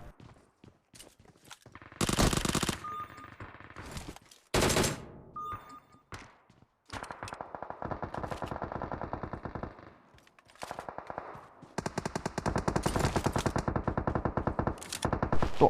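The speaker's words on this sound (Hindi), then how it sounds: "जो ये तबाही वाली फायरिंग चल रही है ना, वो चल तो रही है" PUBG Mobile gunfire: loud bursts of automatic fire come in long and short volleys, separated by brief gaps with a few single shots and quieter game noise.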